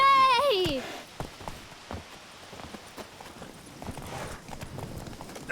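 Geralt's horse Roach walks along in The Witcher 3, hooves clip-clopping in an irregular series of close, crisp knocks, with voices at the start and end.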